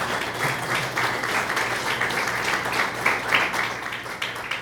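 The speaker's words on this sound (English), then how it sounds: "Give yourself a big round of applause for that." An audience at a charity celebration event breaks into dense, sustained applause, many hands clapping in a continuous roar at moderate distance, swelling slightly midway with no speech over it.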